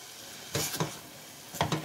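Homemade ketchup in a pot being stirred, with two short scraping, bubbling bursts of a spoon moving through the thick sauce, fairly quiet, separated by a low background hiss.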